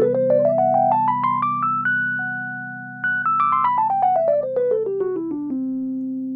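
A bright C Lydian scale, with its sharp fourth, climbs step by step on a sustained keyboard-like tone, pauses on a held pair of notes, then descends back down over a steady low drone.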